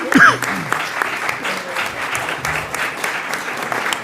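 Applause in a Senate committee markup session: a brief scattered round of clapping from a modest room, fairly close, with a short voice or noise at the start.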